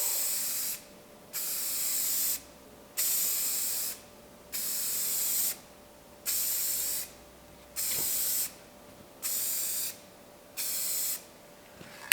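A spray can lays tail light tint onto cardboard in a series of about seven loud, steady hissing bursts, each roughly a second long, separated by short pauses, close and alone without talk.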